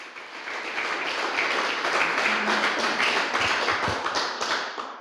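A church congregation claps for the Lord at a worship service, a dense, steady patter of many hands sustained throughout, fairly loud and close, with a few low thumps beneath.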